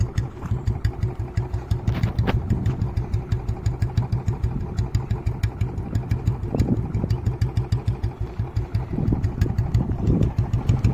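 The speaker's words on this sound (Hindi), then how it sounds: "जब भी थम की आवाज़ इतनी सही आ रही लग रही है ओरिजिनल बैंड पाइप में" A second-hand Royal Enfield Bullet with a carburettor and its original exhaust pipe idles close by, its single-cylinder thump beating steady and even with no talk.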